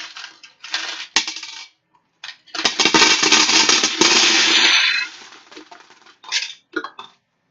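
A heap of coins pours into a bucket in a loud, jangling metallic rush lasting a couple of seconds, with smaller clinks and shuffles before and after.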